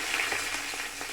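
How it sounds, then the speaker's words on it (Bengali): Whole cumin seeds and a bay leaf frying in hot oil in a pan, a steady close crackling sizzle throughout with no talk. "এখন আমি তেল আবার দিয়ে দিলাম, গোটা জিরে দিচ্ছি, তার সাথে একটা তেজপাতা"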